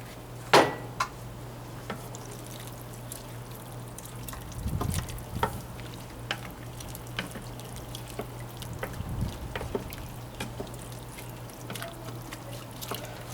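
Tomatoes are stirred into a seafood paella cooking on a Big Green Egg ceramic grill, with scattered scraping clicks and wet stirring bumps over a quiet, steady sizzle and no talking.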